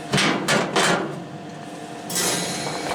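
A metal cooking grate set back onto a Weber Searwood grill, with three quick clanking knocks, a pause, then a scraping rattle as it settles into place.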